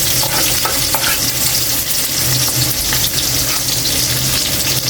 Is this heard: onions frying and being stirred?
yes